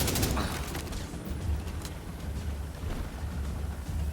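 Gunfire in The Division 2 from an assault rifle, a fairly loud run of rapid shots with sharp cracks early on, then a steady rumble of continued firing, with no talk.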